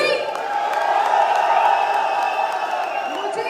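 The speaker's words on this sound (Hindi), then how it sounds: "चलिए तालियों के साथ एक बार शोर भी बजा देते हैं।" A large crowd at an education company event claps and cheers, with whoops rising over steady applause and voices calling out in the hall.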